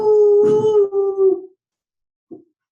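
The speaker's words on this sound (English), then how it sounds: "That's my dog." A dog gives one long, loud, wavering howl that fades out, followed after a pause by a short faint whimper.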